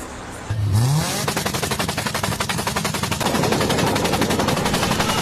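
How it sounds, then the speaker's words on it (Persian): A car with a torn stock exhaust fires off a harsh, rapid machine-gun-like rattle after a brief rising tone, sustained and loud for several seconds without talking over it. "صدای ناهنجار اگزوز. فابریکه بخورم پاره شده."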